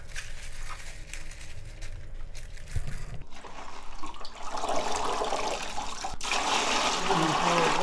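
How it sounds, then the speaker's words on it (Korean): Water is poured over salted winter cabbage in a home kimchi-making session, a splashing trickle that builds and grows louder toward the end. "물을 더 부어."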